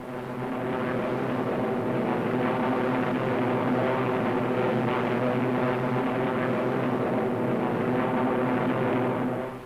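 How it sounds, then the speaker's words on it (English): P-47 Thunderbolt fighter planes climbing over the English Channel on a WWII Eighth Air Force mission: a steady, loud droning propeller-engine roar that swells in and holds evenly for the whole stretch. "The Thunderbolts climb steadily over the channel into hostile skies."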